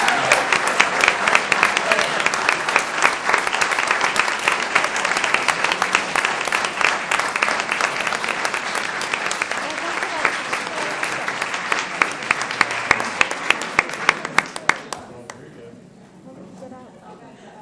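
Audience at a school board business meeting applauding its 45 state-recognized high-impact teachers: loud sustained clapping for about fifteen seconds, thinning into a few scattered claps before fading out.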